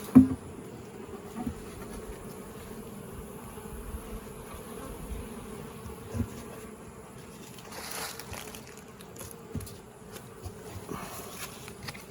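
Honeybees buzz around an open hive during a fall Apiguard treatment, a low continuous hum close by with occasional handling knocks and rustles.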